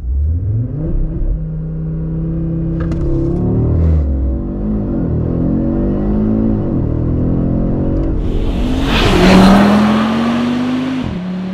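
Audi RS3 sedan (2022, 400 hp) engine revving hard under acceleration, its note boosted by artificial sound piped into the cabin, rising in pitch through gear changes with a loud surge near the end, heard from inside.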